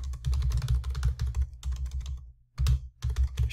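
Typing on a computer keyboard, close and clear, in quick bursts of key clicks broken by short pauses, with no voices.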